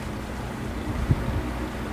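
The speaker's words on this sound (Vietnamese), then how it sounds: "tăng tốc ghe ảnh chạy tốc độ cũng rất là ác các bạn." A Binh Thuan gillnet fishing boat speeding out to sea: a constant low engine and hull rumble mixed with heavy wind buffeting on the microphone and rushing water, steady and loud with no talk.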